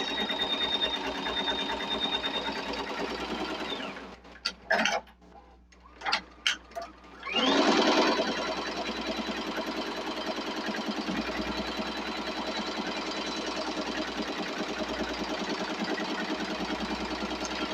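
A Tajima embroidery machine stitches brown thread onto a baby cap, a steady, fast mechanical whir and needle chatter running throughout, briefly pausing and stuttering in the middle before resuming at full speed.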